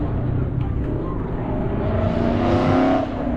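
A Corvette accelerates and drives past at a Pensacola car meet, its engine note rising loud and close before fading, with voices chatting faintly underneath.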